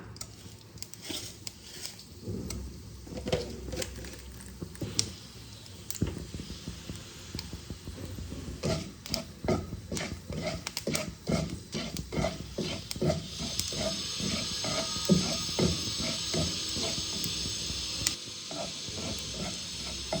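Bay leaves and five-spice seeds crackle and sizzle in hot oil at low level, with scattered pops and the clatter of a stirring spoon against the pan throughout.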